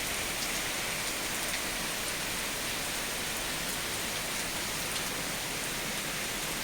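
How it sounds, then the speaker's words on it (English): Steady rain falls outside, a soft, constant hiss of drops on surfaces at moderate distance, with no voices. "it is a rainy day outside here"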